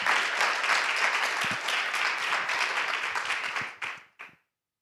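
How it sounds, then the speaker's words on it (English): Audience at a conference session on gender equity in railways applauds, dense clapping from many people that carries steadily for about four seconds, then thins and stops abruptly with a last few scattered claps. "And a big round of applause"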